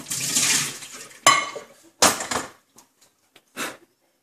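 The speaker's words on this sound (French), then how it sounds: "maintenant, faut bien nettoyer la casserole" Water rushes and clatters against a metal saucepan being rinsed and scrubbed after cooking pasta, in several short bursts with brief pauses between.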